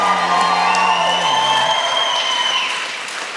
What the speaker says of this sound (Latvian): Jums jāaplaudē šajā brīdī